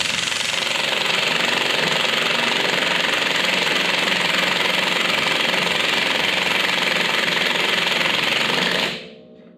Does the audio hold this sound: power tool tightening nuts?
yes